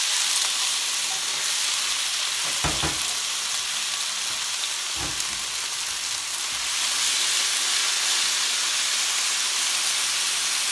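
Marinated beef drops into a hot wok for a stir-fry with glass noodles and vegetables, setting off a loud, steady sizzle and hiss that runs throughout, with a couple of brief clinks of a utensil against the pan.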